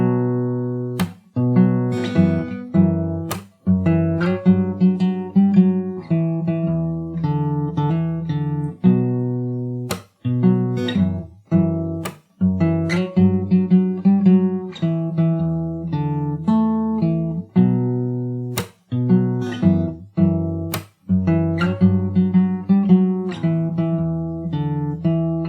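An acoustic guitar plays the full first verse of a song from Cyberpunk 2077 at a slow pace, steady plucked notes and chords ringing close and clear for the whole stretch, with no voices.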